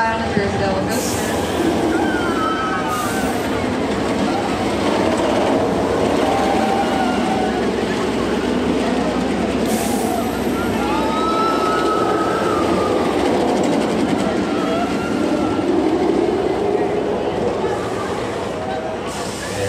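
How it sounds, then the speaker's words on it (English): The Jersey Devil roller coaster at Six Flags Great Adventure rumbles and clatters along its track in a continuous loud roar, with occasional rattling bursts and rider voices mixed into the rushing noise. "You guys are about to roll on out here with your ride on the Jersey Devil coaster"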